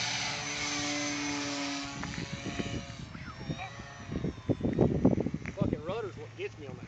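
A model FW 190 A8 warplane's engine drones steadily as the plane takes off, then fades while voices talk over it nearby.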